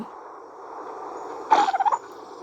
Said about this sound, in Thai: นี่ก็จะได้ยินเสียงโดโด้ด้วยนะครับผม